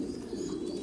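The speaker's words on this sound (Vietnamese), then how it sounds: "Ở trên là cặp chim bồ câu ra ràng." Thai Titan meat pigeons coo in a low, continuous murmur, close by and steady throughout, with no talking.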